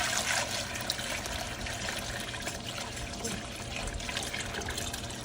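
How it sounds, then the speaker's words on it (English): Seafood stock splashes steadily into a cooking pot for several seconds, a continuous close liquid pour with gurgling trickles and no talking over it. "So now I'm adding the stock to my pot."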